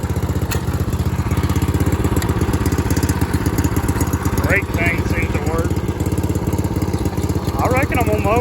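A Scag lawn mower's engine runs close by with a loud, steady chugging drone, joined by brief higher chirps partway through and near the end.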